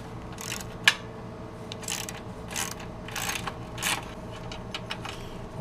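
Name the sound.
13mm socket wrench undoing a nut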